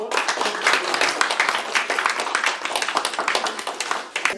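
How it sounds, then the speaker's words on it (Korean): Guests at a newspaper's founding ceremony clap for the chairwoman, a lively burst of applause from a modest crowd with some distinct individual claps, close and fairly loud, lasting a few seconds. "우리 박은희 회장님께 뜨거운 박수를 한번 부탁드립니다."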